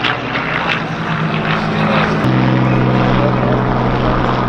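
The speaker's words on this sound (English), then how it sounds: "There's the Hawker Hurricane 1 getting into the air" A Hawker Hurricane 1 piston-engine propeller fighter takes off at an airshow, its loud, steady engine drone filling the air and dropping abruptly in pitch partway through as it climbs away.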